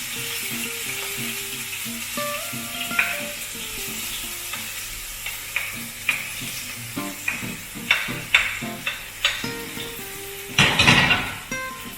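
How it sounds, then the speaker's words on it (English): Onions sautéing over medium heat for a spicy corned beef masala: a steady sizzle broken by stirring scrapes and utensil clinks that grow busier, with a loud burst near the end and soft music underneath. "Now let's add the onions first."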